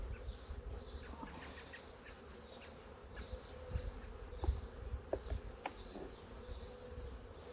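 Honey bees buzz around an open hive during an inspection before honey supers go on, a soft continuous drone with a few nearer passes and faint handling noises, quiet and close.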